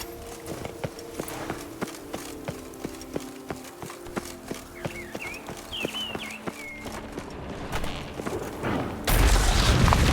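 Roach the horse in The Witcher 3 video game, with a steady run of hoof clip-clops through most of the stretch and a thin whistling voice over it, then a loud broadband rush of noise at the end.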